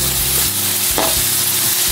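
Ground meat fries loudly in a pan while being stirred, a dense close sizzle with a few soft scrapes of the utensil, heard alone.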